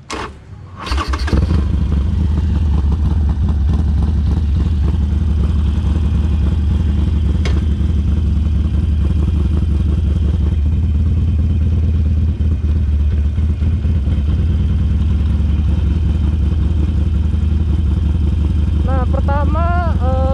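An American motorcycle fires up outdoors in a housing estate in Malang, Indonesia, then settles into a loud, steady, close idle with a deep rumble that holds for the rest of the clip, and a voice is heard over it.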